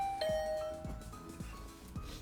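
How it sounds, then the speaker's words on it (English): A doorbell chime in the video game 100 Line Last Defense Academy, a clear two-tone ding-dong followed by a short series of soft repeated thuds, moderately quiet. "I rang the doorbell."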